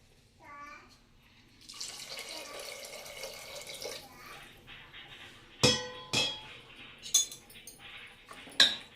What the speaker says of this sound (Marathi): आवश्यकतेनुसार पाणी टाकूया